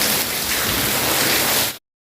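A steady downpour of heavy monsoon rain roars close and loud, a thick wash of drops drumming on surfaces that cuts off abruptly near the end.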